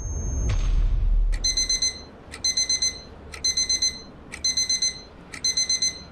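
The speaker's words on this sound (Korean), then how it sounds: "알람 소리?" An alarm clock rings in an RPG Maker horror game: after a brief low thud, five bursts of rapid, bright electronic beeps repeat in an even pattern, fairly loud and with no talk over them.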